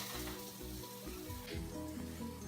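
Turkey meatballs and a vegetable medley cooking in a pan, with a steady, soft sizzle and low frying hiss throughout. It sounds close but quiet, and no one talks.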